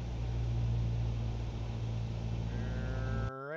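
Simulated piston aircraft engine held at a steady run-up drone during a magneto check, a loud continuous hum with a low tone that wavers slightly, then an abrupt cutoff to quiet near the end.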